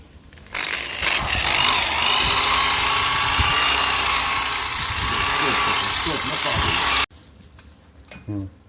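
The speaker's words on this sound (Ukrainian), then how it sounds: "Ми використовуємо таку ось щотку. То є бронзова роторна щоточка." A rotary bronze brush spinning at up to 800 rpm scrubs a ski base with a loud, steady whirring and scraping, then cuts off abruptly, leaving faint handling noises.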